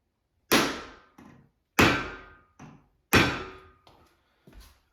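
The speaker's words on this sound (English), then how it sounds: "Give her a whack." Hammer blows on a plastic dowel drive an LSA V8 crankshaft forward during an engine build: three loud, sharp whacks, each trailed by a smaller rebound knock, spaced about a second and a half apart, close and clear with no talk.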